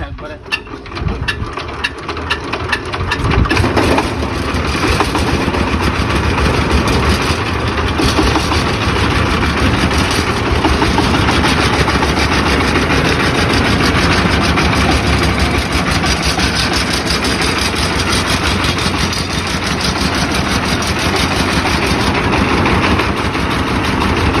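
A new paddy threshing machine engine starts up with a brief rough burst, then settles into a loud, steady, close-up running drone that holds throughout, while people talk faintly beneath it.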